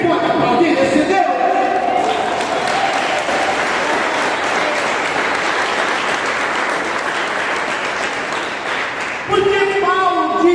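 A church congregation bursts into sustained applause lasting several seconds, loud and dense, with a speaking voice before and after it.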